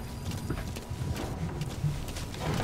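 D-Horse, the horse from the video game Metal Gear Solid 5, gallops in a steady run of clip-clop hoofbeats, fairly close and continuous under a low game ambience.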